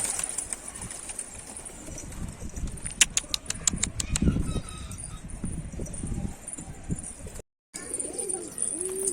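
Wings flap in quick rapid bursts mid-clip as a pigeon takes flight and lands on a rooftop, with soft cooing and outdoor background noise around it.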